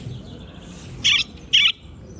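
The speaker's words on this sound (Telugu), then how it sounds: "ఈ పక్షి సౌండ్ ఎలా చేస్తుందంటే జస్ట్ మనం ఇక్కడ ప్రెస్ చేసి చాలు ఇక్కడే" A recorded bird call plays from a push-button museum display in Wellington, giving two short, sharp, bright chirps about half a second apart over quiet room hum.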